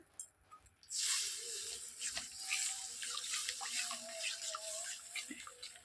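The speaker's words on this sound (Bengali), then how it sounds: "আর একটু জল দিতে হবে এই পর্যায়ে আর একটু জল দিয়ে দিলাম" Water pours into a cooking pan holding fried mustard paste for an egg and cucumber curry. A steady, close, hissing pour starts after a second of near silence and runs to the end.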